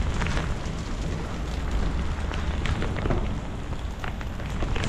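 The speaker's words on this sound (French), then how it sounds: "c'est un orage à ne pas rater" Torrential thunderstorm rain in Sidi Bel Abbès, Algeria, hammers down in a loud, dense, steady wash with sharp drop impacts, no voices.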